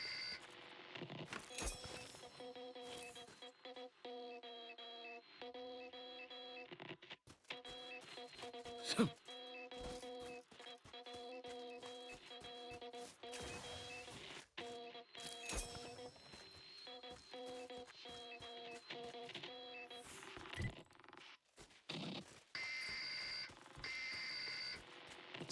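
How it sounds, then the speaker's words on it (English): Dial-up modem connection screeching inside The Outer Worlds 2, a sustained run of warbling tones, beeps and buzzy chirps with abrupt shifts, loud and continuous for over twenty seconds, with no talk over it. "Somebody's using the dial-up."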